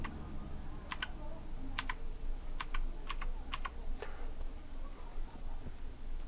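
Computer keyboard keys, the arrow keys, tapped in quick pairs and single clicks, crisp and close over a low room hum, with no talking.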